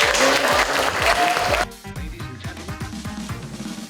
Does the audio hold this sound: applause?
yes